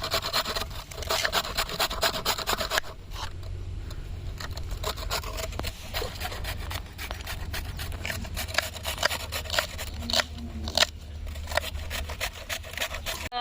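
Knife cutting vegetables for chapati prawn noodles in a village kitchen, a steady scraping and rubbing that runs close and continuous with small sharper strokes throughout.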